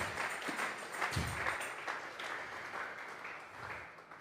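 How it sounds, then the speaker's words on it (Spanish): A church congregation claps as an offering of praise during a Spanish-language Bible study service, with scattered, moderately faint applause that rolls on steadily before tapering off toward the end. "Vamos a regalarle ofrenda de palmas al Dios de la gloria."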